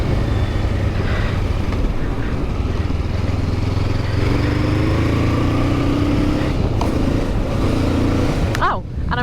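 A 2024 Honda CL500 retro scrambler engine pulls uphill with strong mid-range torque, a steady low drone layered with wind rush, close and continuous throughout.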